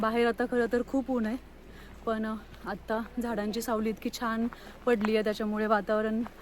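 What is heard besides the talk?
None of the usual background noises is heard.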